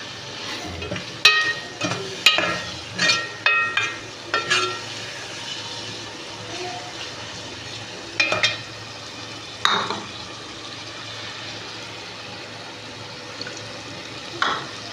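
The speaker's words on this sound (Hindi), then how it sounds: "डालेंगे टमाटर की सब्ज़ मिर्चा" Tomatoes and green chillies are stir-fried in a pan for a chicken masala stuffed karela dish, with a soft continuous sizzle under a run of sharp spatula scrapes and clinks against the pan, clustered early and then coming more sparsely.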